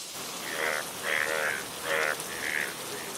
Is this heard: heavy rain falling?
yes